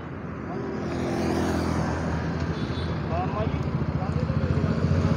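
Vehicles driving along a road in Gandhinagar, Jammu, during a weekend lockdown: a steady engine rumble swells as a car or motorbike passes close, with a pulsing engine note building toward the end.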